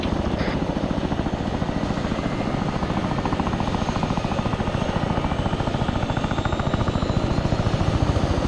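A Chinook helicopter in the military video game ARMA 3 flies with a loud, steady, rapid rotor chop and engine drone that stays constant throughout, with no speech.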